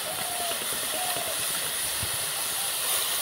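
Water hits a pan of carrots frying in ghee and bursts into a loud, steady, close hiss of steam that holds unbroken throughout.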